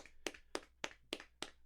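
Five evenly spaced hand claps, crisp and close but fairly quiet, ring out alone in a quick steady rhythm.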